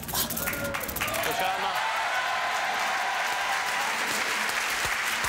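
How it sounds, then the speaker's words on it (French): A television studio audience breaks into sustained applause, a dense, loud wash of many hands clapping that starts with a few sharper claps and holds steady, with voices audible early on. "Mesdames, messieurs, la salve d'applaudissements du public."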